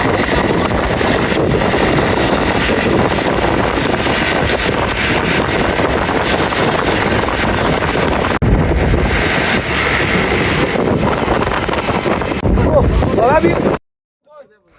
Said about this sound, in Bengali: আমরা এখন রাতারগুলের উদ্দেশ্যে নৌকা নিচ্ছি।